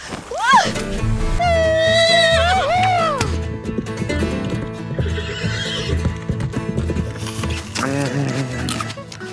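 A horse whinnies loudly with a rising and falling neigh, then hooves clip-clop in an uneven rhythm amid a busy background of other sounds.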